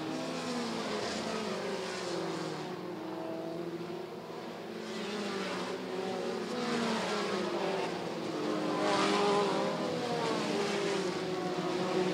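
Race cars roaring around a 3/8 mile oval track on the final lap, a dense continuous engine drone that swells and fades as the pack passes, heard from the stands.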